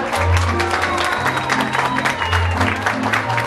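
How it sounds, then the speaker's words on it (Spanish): An audience at a school cultural festival breaks into strong applause, many hands clapping together with a low hum of crowd noise and a few murmuring voices beneath. "los despedimos con un fuerte aplauso"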